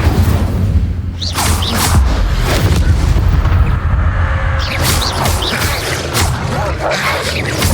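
Incendio fire spell cast in Hogwarts Legacy: loud whooshing fire bursts rise over a dense, constant rumble of game sound and music.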